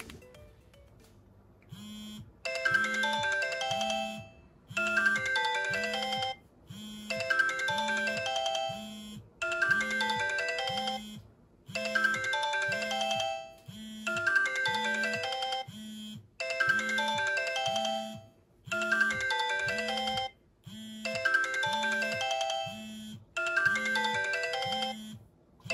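A Sony Ericsson T303 slider phone rings with its ringtone on an incoming call, a steady repeating electronic melody in even bursts with a pulsing low beat underneath, close and alone for about twenty-five seconds.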